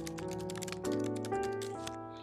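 Rapid keyboard typing for a note, a close, dense run of light clicks and taps with no talking.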